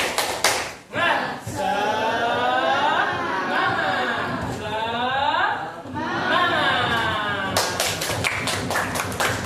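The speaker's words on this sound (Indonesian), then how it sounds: "kita tepuk semangat dulu. Tepuk semangat." A classroom of students performs tepuk semangat, a rhythmic group clap chant: quick bursts of clapping open and close the passage, with loud group voices chanting in between.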